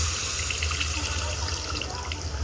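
Tamarind water pours into a simmering fish curry with a steady splashing, running liquid sound, close and continuous for a couple of seconds with no talking.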